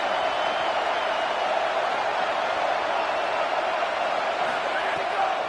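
Steady, dense roar of a large Oklahoma Sooners football stadium crowd, loud and continuous throughout with no clear breaks.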